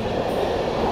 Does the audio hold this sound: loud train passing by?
yes